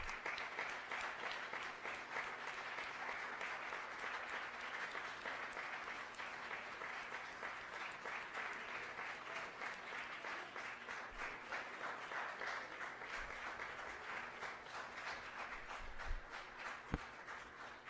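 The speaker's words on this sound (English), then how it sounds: "Let's give them a round of applause, too." Audience applause at a city council meeting in Rochester, NY, honoring student athletes and coaches, a soft, distant wash of steady clapping sustained throughout with faint footsteps and shuffling near the end.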